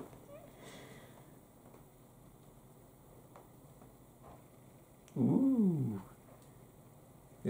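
A house cat meows loudly once up close, a drawn-out call lasting under a second, after a stretch of quiet room tone with faint background sounds.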